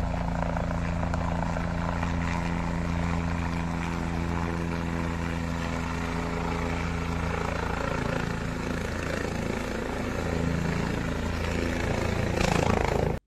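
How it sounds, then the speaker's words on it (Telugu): A helicopter circling overhead, its rotor producing a loud, steady, throbbing drone that stays close and continuous throughout, with a brief swell near the end. "ఇగో మొగుల మీద గాలి మోటారు బుయ్యి బుయ్యి అనుకుంటా తిరుగుతున్నది కదా"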